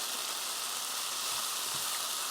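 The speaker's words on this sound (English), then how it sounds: "I'm going to let this saute for another 2 minutes before we add that ackee" Onions sautéing in a pan for Jamaican ackee and saltfish, a steady, even bright sizzle close by, with a couple of faint low knocks.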